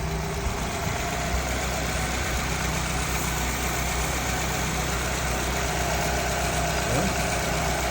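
A Nissan Rogue idles with a steady low hum while the AC compressor engages, a faint shift blending into the constant engine drone with no one speaking.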